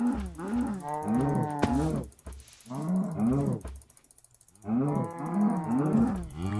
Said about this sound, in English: There's a lot of cows here, at least.